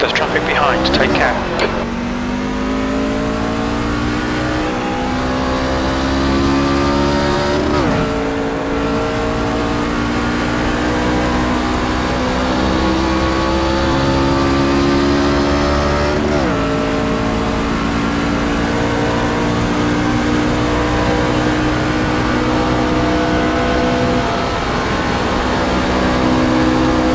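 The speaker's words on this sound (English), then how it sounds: "There's a car leaving the pits." Race truck at a Las Vegas track pulling out of the pits and accelerating hard, its loud engine climbing steadily through several gear changes, with radio chatter over the top.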